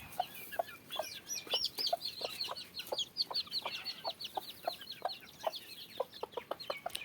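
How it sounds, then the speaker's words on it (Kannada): Backyard chickens and small chicks clucking at evening feeding time, a quiet series of short, repeated clucks and chirps close by. "ಇದೆಲ್ಲ ನಮ್ಮದೇ ಕೋಳಿಗಳು ಗೈಸ್."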